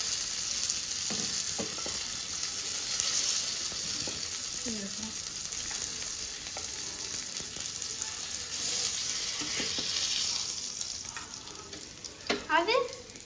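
Fish fries in hot oil with a steady, continuous sizzle and crackle throughout, with occasional spoon stirs and faint clinks; a few brief knocks near the end.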